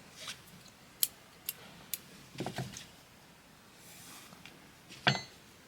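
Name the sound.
scissors cutting a long tail of yarn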